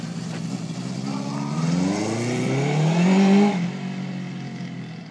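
A 1978 Honda CB750 motorcycle with a 4-into-1 exhaust revving up close by, its engine note climbing in pitch and loudness before easing back to a steady idle.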